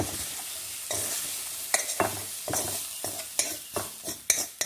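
Radish palya stirred and roasted in a hot pan, a spoon scraping repeatedly in irregular strokes over a steady soft sizzle, with no voices.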